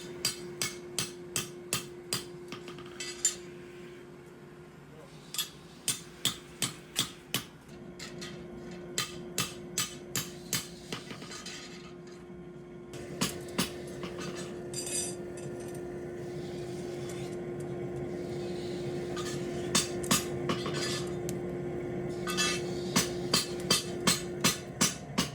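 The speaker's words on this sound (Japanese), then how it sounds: "銅と真鍮が入ってる鋼材で、これを叩くんだけど" Heavy hammer blows strike hot steel laced with copper and brass while forging a Japanese knife, arriving in loud, steady rhythmic bursts over a constant electric hum.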